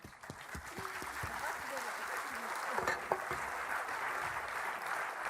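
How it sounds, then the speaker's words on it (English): An audience at a plenary debate session applauds the panel, a broad, sustained wash of clapping from many hands that holds steady throughout, with faint voices mixed beneath it. "An applause for the panel."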